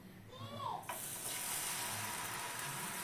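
A ladle of batter hits an oiled pan over a medium gas flame and bursts into a loud, bright, continuous sizzle, preceded by a brief scrape and soft background sounds.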